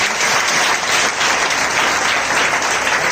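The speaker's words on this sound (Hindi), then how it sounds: "ताली बजाओ परमेश्वर" Church congregation at an Easter service claps together in a loud, dense, continuous burst with no pauses, close and filling the room.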